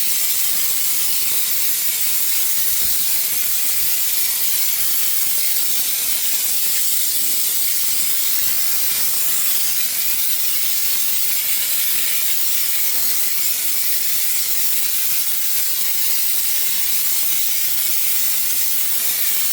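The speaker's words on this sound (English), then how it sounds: "All right, we're spraying. See how it comes out?" A spray gun running at 60 psi lays down Cocoskin heat and sound insulation coating, giving a steady, loud, close hiss of air and atomized spray that holds unbroken for the whole stretch, with no talking.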